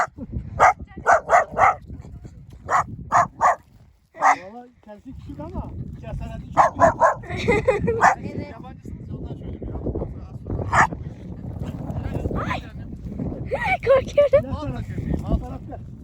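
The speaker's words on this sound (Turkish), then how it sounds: "Köpek peşimize verdi." A dog barks in a quick series of sharp, close barks, then people talk excitedly while more barking and yips break in intermittently.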